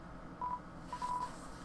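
A phone rings in the video game Undertale with two short electronic tone beeps, the second slightly longer, faint under a low background hum.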